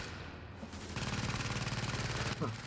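Turret gunfire in The Division, a steady rapid stream of automatic shots running for well over a second amid the noise of a firefight, with a player's voice briefly over it near the end.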